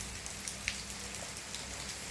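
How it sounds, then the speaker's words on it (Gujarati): Steady rain falls in a continuous soft patter, with a few louder individual drops ticking on a nearby surface. "અત્યારે જો અમારે તો વરસાદ ક્યારનો ચાલુ છે"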